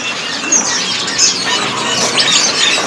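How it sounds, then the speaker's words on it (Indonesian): Green leafbirds at a bird-selling kiosk give bright, repeated chirps and sharp call notes at close range, with some wing fluttering mixed in. "biasanya bunyi ya dari burung cicak hijau PH ini"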